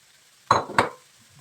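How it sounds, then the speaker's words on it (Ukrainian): Mushrooms frying with onions in a pan for a mushroom sauce, heard as two quick clinks and scrapes of stirring over a faint background sizzle, with no talking. "Добре, смажимо грибочки."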